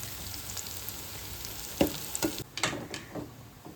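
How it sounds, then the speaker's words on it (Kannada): Sliced onions fry in a pan for mutton biryani, giving a steady sizzle with a few scrapes and clinks of stirring near the end. "ಇಲ್ಲಿ ಉಳ್ಳಾಗಡ್ಡಿ ಚಲೋ ಬ್ರೌನಾಗಿ ಫ್ರೈ ಆಗ್ಯದ"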